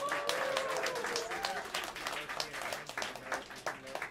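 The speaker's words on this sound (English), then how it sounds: "Please bring your hands together and give a warm round of applause for the great Kush Abadey on the drums." Audience at Smalls Jazz Club in New York City clapping for drummer Kush Abadey during a live John Ellis Quartet set, a warm patter of applause running under an announcer's voice.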